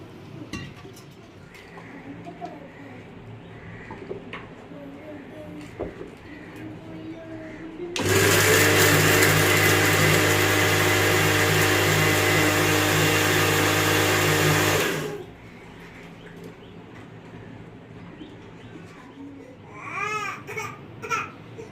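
A loud mixer grinder grinds coconut, whirring steadily for about seven seconds, its harsh motor drone starting and stopping abruptly, with quieter kitchen sounds before and after.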